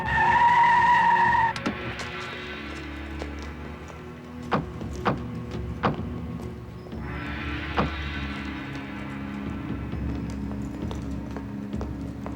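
Tires screech and skid loudly at the start, followed by a running engine with sharp impacts and thuds scattered throughout.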